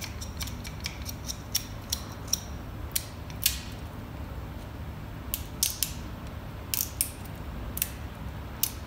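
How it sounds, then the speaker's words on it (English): Excess acrylic is peeled by hand off the sides of a dental flask: a quiet, continuous scratchy rustle with a series of sharp snapping crackles and tearing clicks scattered throughout, no talking. "we're going to peel off this excess acrylic so we doesn't cut into our fingers"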